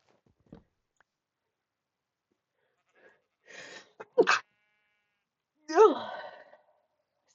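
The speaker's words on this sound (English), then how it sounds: "That was a horrid noise I made after I sneezed there." A single sharp human sneeze from someone sick, followed moments later by a strange, wavering bleat-like vocal noise, close and loud against otherwise near silence.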